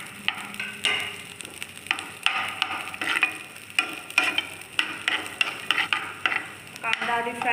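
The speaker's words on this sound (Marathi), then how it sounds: "कांदा आधी फ्राय करून घेऊया आपण." Onion frying in hot ghee in a kadhai for a paneer and mixed vegetable dish, with a steady sizzle broken by repeated scraping and stirring strokes, close and fairly loud, with no speech.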